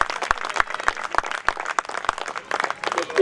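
An audience at a Hindi comic poetry gathering claps, mixing scattered crisp claps with a steady bed of applause that carries on for about three seconds.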